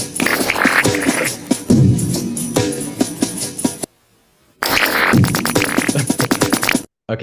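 A comic fart song plays loudly through speakers, a dense run of raspy bursts and music that cuts out briefly midway, then resumes before stopping near the end.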